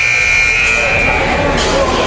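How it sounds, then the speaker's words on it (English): A loud electronic buzzer blares at a girls' varsity basketball game, one sustained harsh tone lasting about two seconds over the gym's crowd noise. "buzzer is sound"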